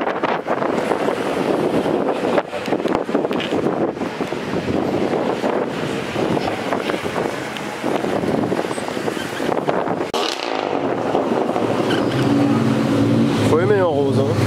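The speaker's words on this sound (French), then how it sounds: "il y a du vent." Strong wind buffeting an outdoor microphone at a coastal street in Knokke, a constant loud roar that covers the whole clip, with traffic faintly underneath.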